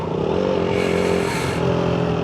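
A motorcycle on loan, whose wiring fault means it cannot be started for the ride to Kathmandu, runs steadily close by, its engine drone and rattle continuous with a slight swell in revs midway.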